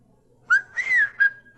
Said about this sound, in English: We're gonna whistle together.